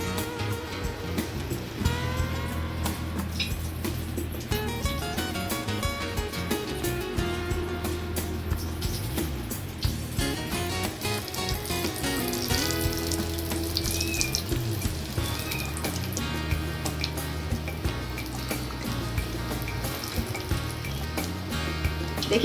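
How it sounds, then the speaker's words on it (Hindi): Potato koftas coated in gram flour (besan) sizzle steadily in hot oil, a continuous close crackling hiss with no voices over it. "अब इसको इसमें से बेसन में से निकाल करके तेल में डाल देंगे।"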